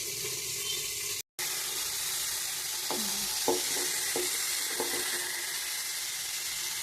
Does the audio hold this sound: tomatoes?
yes